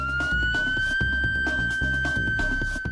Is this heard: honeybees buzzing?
no